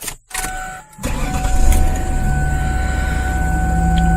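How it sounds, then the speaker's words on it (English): A Ford Taurus SES 3.0 12-valve engine cranks and catches after a brief pause, then settles into a steady close cold idle with a low rumble and a faint high whine. "We'll go back in here and we'll start the car up."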